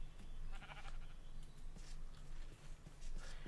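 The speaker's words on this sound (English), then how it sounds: "I swear, all I have around here are sheep." Sheep bleat in Minecraft (RLCraft), several short wavering calls in a row over a faint low background, fairly quiet and somewhat distant.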